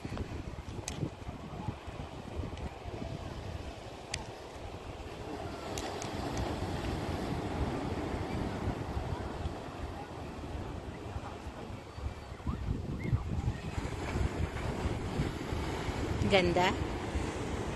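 Surf at the Ko Olina beach lagoon on Oahu at sunset, waves washing in a continuous soft rush under wind, with a voice speaking briefly.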